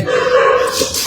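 A dog howls loudly and close by, one wavering drawn-out tone with a whimpering edge, heard alone without talk.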